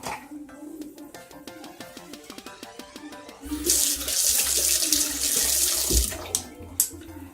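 A tap runs water to wet a strand of hair, rushing and splashing steadily up close for several seconds after quieter clinks and movement, then cutting off near the end.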